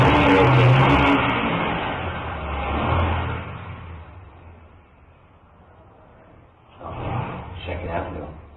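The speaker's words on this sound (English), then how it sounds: "You hear trucks go by, zoom, zoom with the traffic." Trucks and cars drive past on Second Avenue in street traffic, a loud engine roar that fades away, then another vehicle approaches near the end. No voices.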